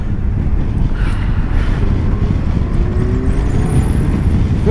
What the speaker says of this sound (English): Oh wow, that's a lot of wind.